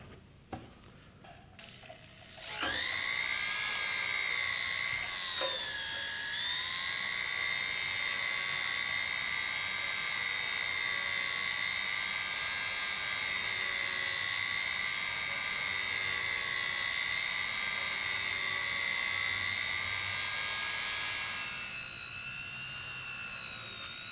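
A flexible shaft tool spins up with ZAM compound to polish cloisonné enamel jewelry, a high, steady whine that starts abruptly, holds for about twenty seconds, then winds down.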